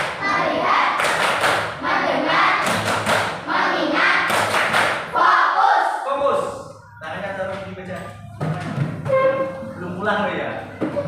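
A group claps a focus pattern together during a social-emotional learning session, with loud sharp clusters of claps in a steady rhythm between voices chanting and speaking.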